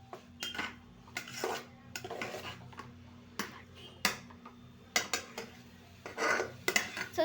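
Food being stirred and mixed in a pot with soy sauce, a spoon scraping and knocking against metal in irregular strokes, close and fairly quiet, separated by short pauses.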